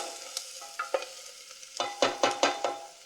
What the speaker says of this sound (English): It's good to make sure that you're always stirring your onions so that they don't get burned, okay?